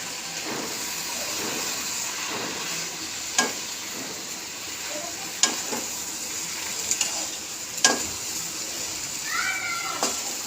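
Shrimp frying in a pan and being stirred for a Bengali bottle-gourd greens and shrimp dish, a soft steady sizzle broken by sharp scraping and clinking stirs every couple of seconds, close and fairly quiet.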